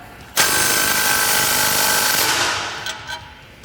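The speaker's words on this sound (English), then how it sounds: "Now I'm gonna take my 15 millimeter and my 3/8 gun," A 3/8-inch air ratchet gun runs in one loud, sustained rattling burst as it tightens a 15 mm exhaust bolt on a 2009-2018 RAM 1500 5.7L exhaust install, with two brief blips at the end.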